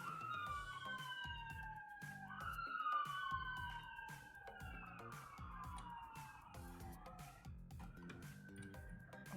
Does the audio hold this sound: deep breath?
no